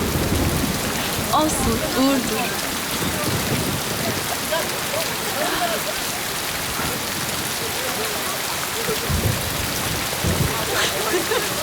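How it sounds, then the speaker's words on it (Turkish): Heavy rain pours down outdoors in Çukurova, a loud, dense, continuous hiss of drops striking surfaces, with low rumbling underneath and people speaking briefly over the downpour. "Oo yağmur fena indiriyor."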